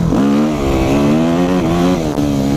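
A Yamaha YZF 250 motorcycle engine while riding, loud and close, with a buzzing, high-revving note that rises and dips as the throttle changes.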